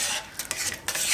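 A spoon stirs cornflour into a pot of liquid while a Gujarati rice sizzler is being prepared, giving a few quick scraping, swishing strokes at close range, fairly soft and without speech.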